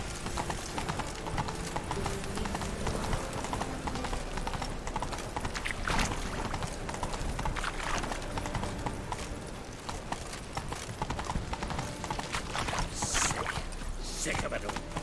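Horse hooves clip-clop at a steady riding gait in The Witcher 3, a continuous rhythmic patter set within a dense game soundscape, with some voices.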